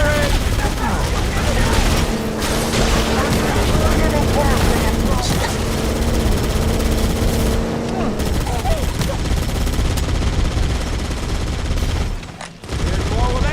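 Gunfire in the Halo: Combat Evolved remake, loud sustained bursts layered with steady mechanical drone and sporadic impacts, continuing for most of the stretch before briefly dropping out near the end.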